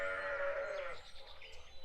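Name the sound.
sheep bleating in the video game Plague M.D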